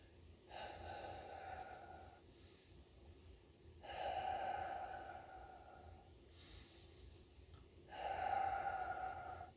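A person does a conscious deep breathing exercise in three long, slow, audible breaths, each a drawn-out rushing inhale or exhale with quiet pauses between. The breaths are close, fairly soft and heard alone.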